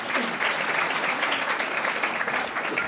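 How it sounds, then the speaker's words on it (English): Audience at a presidential center inaugural lecture gives a sustained round of applause, thick even clapping from a large crowd holding steady throughout. "Give yourselves another round of applause."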